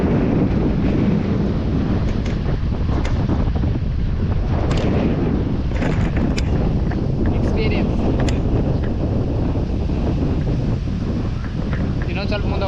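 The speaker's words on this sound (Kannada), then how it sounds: "ನೋಡ್ರಿ ಅಲೆಗಳು ಹಂಗೆ ಬಂದ್ಬಿಡಿಕೊ" Sea waves wash in and break against the shore in Goa under heavy, continuous wind buffeting the microphone.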